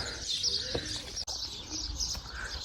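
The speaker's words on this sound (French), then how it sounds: "Il y a juste le bruit des oiseaux." Birds chirp and coo around an ancient temple in Luxor, Egypt, a steady mix of twittering and soft dove calls close by with outdoor ambience, briefly broken by one short dropout.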